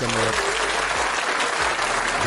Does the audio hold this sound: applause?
yes